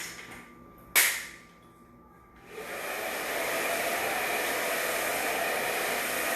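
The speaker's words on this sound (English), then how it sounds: "So we're just going to blow dry it through." A hair dryer starts up after a sharp click and runs with a loud, steady whooshing roar while blow-drying hair, with no talking.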